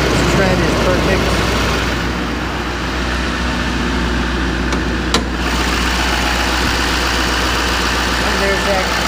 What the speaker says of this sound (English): And there's that powerhouse of a diesel engine